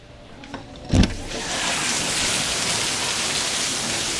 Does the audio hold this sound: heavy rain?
yes